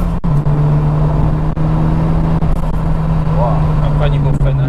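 A Renault 21 Turbo tuned to 250 horsepower on ethanol accelerates, its engine holding a loud, steady drone heard from inside the cabin while people talk over it.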